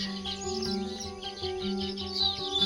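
Baya weaver birds call from a coconut tree beside a mango orchard in Tirupati, a dense chorus of high chirps and twitters running continuously over a steady hum, with no talk.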